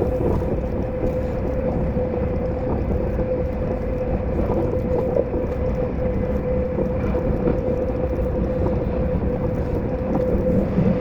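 Caledonian Sleeper train running across the Scottish lowlands after leaving Edinburgh, heard from on board: a steady, continuous rumble of wheels on rail with a low hum, even and unbroken throughout with no voices.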